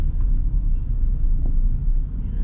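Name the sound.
Toyota Veloz car driving in traffic, shifting gears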